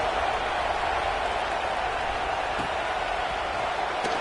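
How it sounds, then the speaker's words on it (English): A steady, dense crowd roar fills a college football video game stadium after a score, a constant broadband murmur without distinct cheers or breaks. "this crowd is buzzing after that last score"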